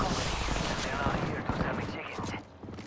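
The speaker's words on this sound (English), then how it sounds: "enemies are shooting at me" Gunfire in a video game: dense, continuous rapid fire with overlapping shots that stays loud for most of the stretch, then thins out near the end.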